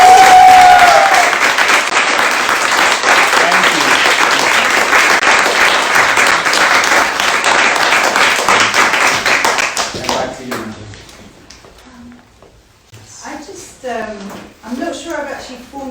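An audience at a contemporary art project event breaks into loud, dense applause that holds steady for about ten seconds, then fades out as a voice starts talking.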